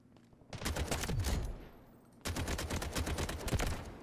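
Dense, rapid gunfire from soldiers in the Delta Force Hawk Ops extraction mode comes in two sustained volleys. There is a short lull between them, and the loud, crackling bursts overlap one another.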